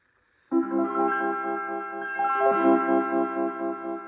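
An Omnichord's strum plate, on its second voice, gives a sustained, shimmering synth-like chord that swells in after a brief silence and holds steady, with a soft, watery, organ-like tone and no talking.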